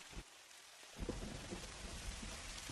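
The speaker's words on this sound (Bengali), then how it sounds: "হ্যাঁ, বৃষ্টি তো পড়েই যাচ্ছে, থামার আর কোনো নামগন্ধ নেই।" Steady, heavy rain pours down while a low rumble of thunder rolls beneath it, with no voices.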